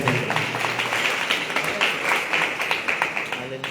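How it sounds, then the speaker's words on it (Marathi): Crowd applause at a kirtan devotional gathering, a dense continuous patter of many hands clapping loudly and steadily throughout, with bright sharp claps forming an unbroken wash. "जोरदार टाळ्या वाजवा."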